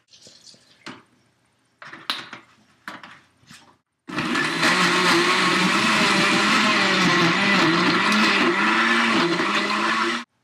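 A blender whirs loudly and steadily as it mixes milk and Reese's peanut butter, close and continuous for several seconds, after a few brief clatters and handling knocks at the start.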